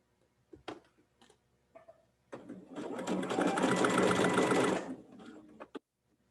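A sewing machine stitches a scant quarter-inch seam in one steady, close run of about two and a half seconds, with a few soft clicks and handling sounds before and after.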